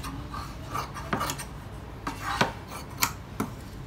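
Fabric for an umbrella one-piece gown is cut in an arc at the waist, with a series of close, crisp snips and rasping slides coming at an irregular rhythm.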